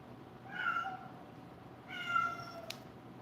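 A cat meows twice, loud drawn-out cries spaced about a second apart, with a small click after the second.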